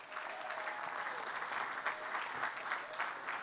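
Sustained applause from a large audience at a university commencement ceremony, dense and even clapping at moderate distance that carries on without a break for a few seconds.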